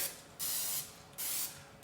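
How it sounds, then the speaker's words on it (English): Two short hissing bursts of cooking spray, each lasting about a second, with a brief pause between them, close and fairly quiet. "I'm going to just spray the pan really quick."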